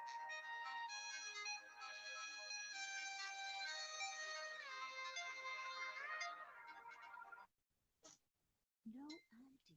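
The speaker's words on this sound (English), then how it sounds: "Oh, my phone is ringing." A mobile phone ringtone plays a bright repeating melody for about six seconds, fairly loud and steady, before cutting off into near silence and a few brief sounds.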